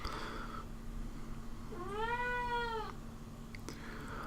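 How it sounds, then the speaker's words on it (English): A single drawn-out cat meow rises and falls over about a second. It sounds fairly close, against a steady low indoor hum. "And that's the cat."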